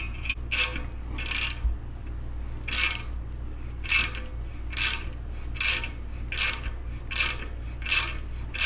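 Rhythmic scraping strokes of a tap cutting threads in metal for a sensor fitting, about ten rasping passes at a steady pace, close and moderately quiet.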